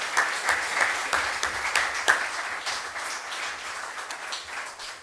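An audience at a heritage conference breaks into steady, sustained clapping that fills the room evenly, with a few sharper claps standing out, and no talk over it.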